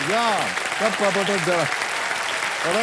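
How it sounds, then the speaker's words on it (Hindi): A studio audience on a quiz show claps in a dense, steady burst of applause; a voice breaks in over it with rising, sung-like tones. "तालियां बजते रहे इनके लिए"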